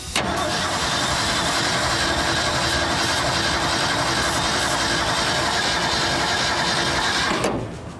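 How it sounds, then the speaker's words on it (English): A Ford F350 dually's starter motor cranks the engine steadily for about seven seconds, a loud, continuous mechanical whir that stops abruptly at the end, with no voices over it. "Starter's much better."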